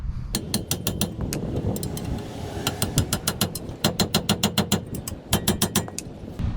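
Brake caliper mount bolts on a 2009 Toyota Sienna are tightened with a ratchet, making bursts of sharp, rapid clicks in quick rhythmic runs with short pauses between them, close and loud.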